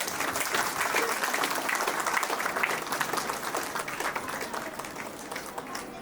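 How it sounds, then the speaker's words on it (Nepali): Sustained applause from a gathered audience welcomes the priest at a wedding ceremony, dense clapping filling the whole stretch and tapering slightly toward the end. "उहाँलाई हामी ताली बजाएर उहाँलाई स्वागत गर्नेछौँ।"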